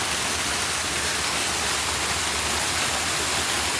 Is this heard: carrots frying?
no